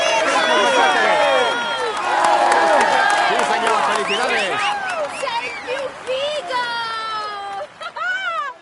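A large crowd cheers and applauds continuously in the video game Tour de France 2017 on PS4, with whistles and shouts rising over a dense wash of clapping; loud and close throughout.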